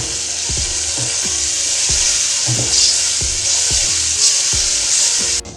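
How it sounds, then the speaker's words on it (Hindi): Masala spices fry in a pan for a mixed vegetable rice dish with carrots, a steady bright sizzle running throughout, broken by regular scraping stirs of a spoon against the pan. "अब काफ़ी भून लिया मैंने इस मसाले को"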